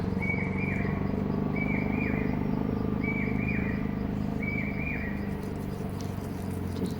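A bird chirps four times in short, evenly spaced calls over a constant low hum, with no talking.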